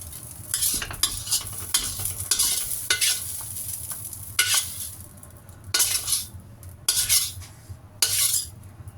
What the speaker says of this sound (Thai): ตักขึ้นได้ ปักเสริมตีซีน ตักใส่จานก่อนนะคะ